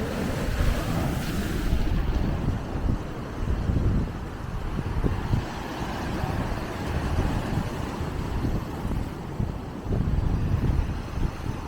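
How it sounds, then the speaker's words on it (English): Ocean waves break at Ala Moana Beach Park on Oahu in a continuous, moderately loud rush of surf and wind buffeting, with low rumbling swells recurring throughout. "The waves are crashing"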